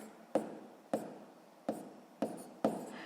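A pen writing math by hand on paper, with five short, evenly spaced scratchy strokes, close and quiet, with no talk.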